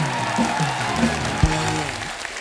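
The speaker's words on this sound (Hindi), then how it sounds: "द नाइट मैनेजर की पूरी टीम के लिए जोरदार तालियां।" Studio audience applause for The Night Manager cast on The Kapil Sharma Show, steady clapping throughout under loud background music, with a brief thump midway.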